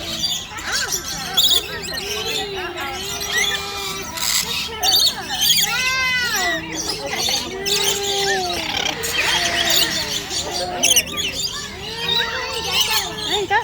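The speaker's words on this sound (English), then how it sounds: "it's surprisingly clean for all these birds in here" Many birds in an enclosure chirp and squawk in a busy, continuous chatter, with people talking nearby.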